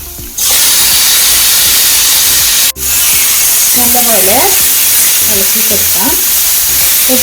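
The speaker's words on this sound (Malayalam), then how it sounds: "മാരിനേറ്റ് ചെയ്ത് വെച്ച ചിക്കൻ ഇതിലോട്ട് ഇട്ട് കൊടുക്കാം" Loud, steady sizzling as marinated chicken hits a hot pan and keeps frying without water, with a brief dip in the hiss and a voice murmuring underneath.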